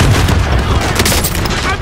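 Gunfire in the shooter Call of Duty Warzone: a loud, dense battlefield wash of booming shots and sharp cracks, close and continuous.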